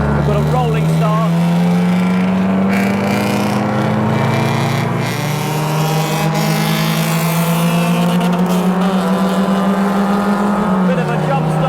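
Race cars rolling toward a start, a loud close engine drone holding steady and then rising in pitch as the field accelerates, with other cars audible around it.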